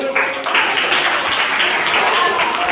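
Children applauding together at a Christmas gathering, a steady, dense wash of clapping that holds loud and even from start to finish with no voices standing out.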